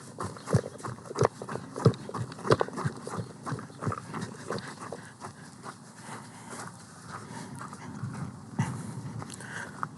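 A donkey running around and hopping onto objects outdoors, with irregular hoof clip-clops and thuds close by, some heavy breathing, no talk.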